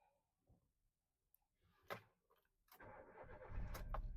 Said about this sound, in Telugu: ఓన్లీ హాఫ్ సెల్ కే స్టార్ట్ అయిపోయింది బండి అయితే.